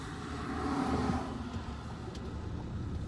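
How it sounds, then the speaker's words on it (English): A car rumbles up from behind on a city street, a faint, low engine hum with road noise that swells slightly and then holds steady. "I'm going to slow down because there's a vehicle coming up behind me"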